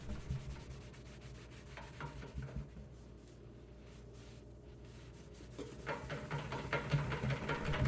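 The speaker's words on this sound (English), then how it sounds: "I'm just taking a separate dry cloth and really buffing the metal as best" A dry cloth rubs back and forth over a metal sink, a soft continuous scrubbing with rhythmic swipes that ease off midway and then pick up again louder, heard close with no talk.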